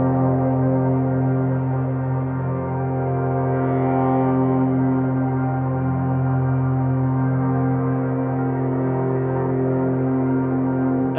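A sustained musical drone holds a thick, unchanging low tone with steady overtones for the whole stretch, loud and alone without any pauses.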